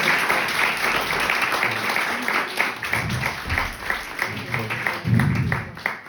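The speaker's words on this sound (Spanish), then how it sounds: "Pues simplemente darte las gracias otra vez, David, con otro aplauso" Audience applause at a talk on the meaning of life and collective challenges, a dense steady patter of many hands with low murmurs and brief voices underneath, fairly loud throughout.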